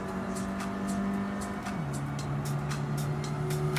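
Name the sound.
car driving on track in video game Gran Turismo 7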